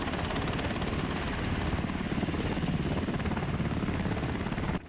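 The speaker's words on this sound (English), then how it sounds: "It's the MH-60 Seahawk, the U.S. Navy's ultimate predator of the deep." A US Navy MH-60 Seahawk helicopter flies by with a steady, loud rotor chop and engine roar that hold throughout, then cut off sharply at the end.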